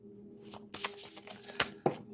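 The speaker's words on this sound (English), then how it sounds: "All right, we're going to shuffle a little bit more." Rune cards shuffled by hand during a reading, a quick run of crisp riffling and slapping bursts, close and fairly loud, ending in a sharper tap.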